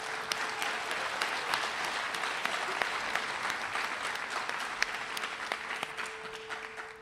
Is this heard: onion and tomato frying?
no